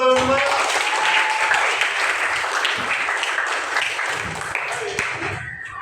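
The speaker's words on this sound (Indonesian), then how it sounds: "Tepuk tangan dong kalian semua." Classroom applause from a group of students, answering a teacher's call: dense, steady clapping that fills the whole stretch at close range and tapers slightly toward the end, with a brief voice at the start.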